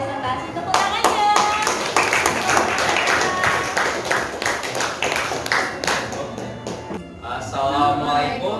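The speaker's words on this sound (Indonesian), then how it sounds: "Tepuk tangannya." A classroom group in an Indonesian lesson is greeted with loud, sustained hand clapping from many students at close range, irregular and continuous, with a short dip near the end before more claps.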